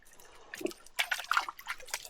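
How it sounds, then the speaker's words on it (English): A dog wades through water on a muddy hiking trail near North Bend, Washington, making a few quiet drips followed by a burst of close, irregular splashing and sloshing. "we gotta get him walking through the water right here"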